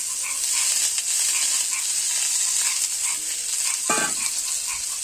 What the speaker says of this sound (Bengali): চালটা ভেজে নিচ্ছি।